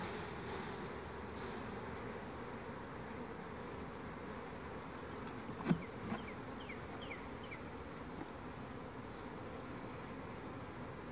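Honey bees hum in a soft, continuous buzz as they are shaken from brood frames onto a landing board over a nuc box during a hive split, with a couple of faint knocks in the middle.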